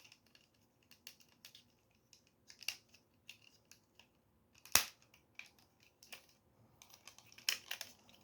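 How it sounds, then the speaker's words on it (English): A plastic Studio Series Transformers figure being snapped into place and flipped during transformation gives sparse, sharp plastic clicks and snaps, one louder crack standing out among the quieter ticks, close up with no talking. "Feels way better to snap this guy in place and flip him around."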